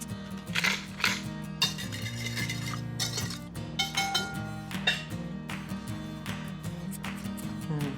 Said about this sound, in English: And give it a good whisk until it's emulsified and come together, nice and creamy.